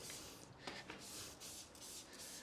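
A quiet, steady hiss of a spray bottle misting cleaner onto a floor mat, with a few soft bursts and faint rubbing sounds close by.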